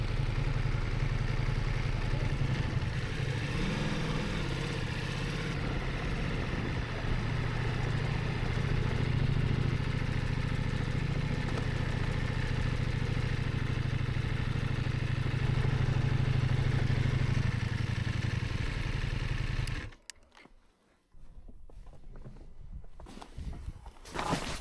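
Steady engine drone of a Ducati Multistrada V4 climbing a rough hill road in Croatia, continuous and loud with wind rumble and clatter for about twenty seconds before cutting to quieter, patchy engine sound.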